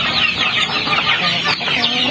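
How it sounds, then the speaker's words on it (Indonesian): Hens cluck busily on a poultry farm holding hundreds of chickens, a dense, continuous chorus of overlapping clucks and calls close by, with no pauses. "dengan ratusan ekor ayam"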